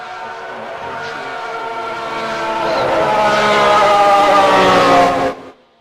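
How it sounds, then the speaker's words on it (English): Formula 1 race cars in a racing video game, a loud engine whine rising in pitch as cars sweep past, building steadily before cutting off abruptly. "I just wanted to adjust the sound there because the cars were very passing by on my end"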